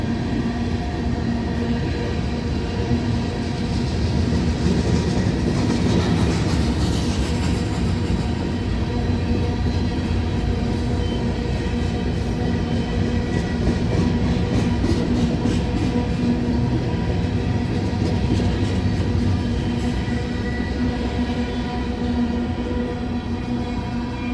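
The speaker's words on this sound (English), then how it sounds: "I just about made it for the CSX intermodal." A loaded CSX intermodal freight train rolls past at night, a loud steady rumble of wheels and cars with rhythmic clickety-clack joints, continuous for the whole stretch and close by, with no voices.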